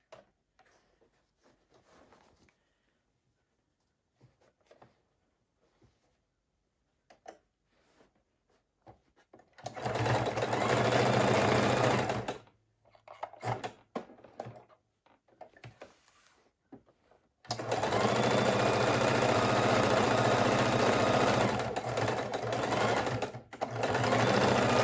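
A sewing machine stitches a fidget quilt in two loud, close bursts of rapid whirring, the second longer, separated by quiet handling clicks and near silence.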